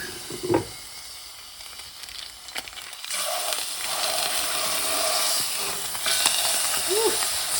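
Lamb goes into heated olive oil in a pan and breaks into a rising, steady hiss of sizzling that grows louder and fills the space after a few quiet handling noises.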